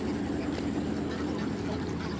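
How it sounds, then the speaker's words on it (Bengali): A dense, continuous chorus of quacking comes from hundreds of ducks at a duck farm, steady and fairly loud with no clear talk over it. "দেখুন অনেক হাঁস এখানে, প্রায় আপনার 7 থেকে 800 হাঁস হবে, রাজা হাঁস, এই পাতি হাঁস"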